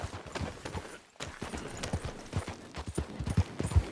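Horse hooves clip-clop in Red Dead Redemption 2, a run of close, uneven thuds on the ground with a brief pause near the start, then steady walking steps with a few louder knocks.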